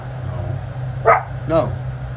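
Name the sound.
dog barking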